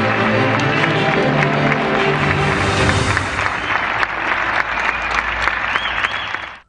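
Steady, loud applause from a crowd fills the whole stretch, continuous clapping with a faint cheer, fading out abruptly at the very end.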